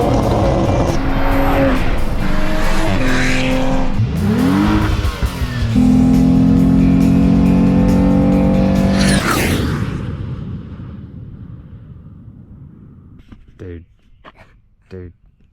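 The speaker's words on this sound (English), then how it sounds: "Give it a rev one more time." A Toyota Supra engine revs loudly and close by in several rising, roaring pulls, holds a high sustained note, then falls away to quiet, with a few voices briefly audible at the end.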